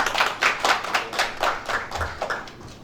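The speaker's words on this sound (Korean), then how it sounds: "박수로 청하겠습니다." An audience at a Korean presidential candidate debate forum hosted by a journalists' association gives a round of applause, steady rhythmic clapping from a modest crowd that tapers off toward the end.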